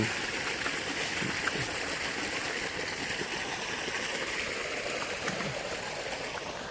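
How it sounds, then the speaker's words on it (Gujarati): Irrigation water flowing steadily through a field channel, a continuous rushing and trickling sound, close by with no voices. "આગળ પાણી ચાલુ છે જોઈ શકો"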